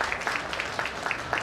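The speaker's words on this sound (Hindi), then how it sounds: "एक बार सब एक दूसरे के लिए तालियों की गड़गड़ाहट।" Audience at a Hindu spiritual gathering applauding one another, a dense, steady wash of many hands clapping with no voices over it.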